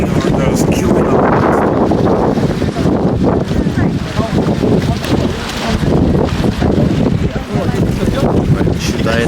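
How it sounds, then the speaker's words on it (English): Heavy wind buffeting a microphone outdoors in freezing weather in Switzerland, a constant loud rumbling roar with gusty surges, and people talking faintly beneath it. "Should I not have any audio from this because of the wind"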